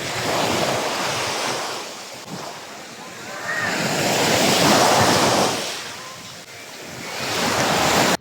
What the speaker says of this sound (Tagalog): Ganda yung hampas ng dagat.